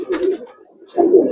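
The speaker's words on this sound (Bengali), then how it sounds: "যারা প্রচুর ডাকের কবুতর পছন্দ করেন, যে সবসময় ডাকবে আর মাদি পিছনে ঘুরবে" Giribaz pigeons give two close, loud cooing calls separated by a short pause, with no other sound around them.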